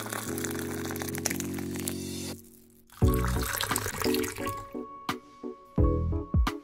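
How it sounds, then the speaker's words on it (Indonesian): About 300 ml of boiling water is poured onto coffee for a chocolate tiramisu, heard as a close, gurgling stream that comes in a few separate pours with short gaps between them. "lalu kita tuang dan seduh kopinya."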